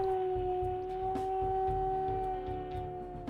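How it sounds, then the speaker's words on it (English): A wolf howls in the WolfQuest video game, a long sustained tonal cry that holds steady and close over a low rumbling game backdrop, with no talking. "And that is a newer howl, I am pretty sure."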